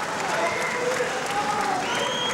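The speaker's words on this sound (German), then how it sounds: "Das Publikum ist begeistert von Eltike Lokal." A crowd at a 1989 professional boxing match applauds excitedly after a knockdown, a dense, steady wash of clapping heard under a commentator's voice.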